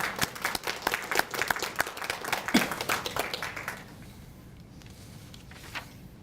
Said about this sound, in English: So even though they're not here, let's give a round of applause.